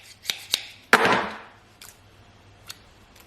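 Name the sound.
scissors cutting tape, gummed with glue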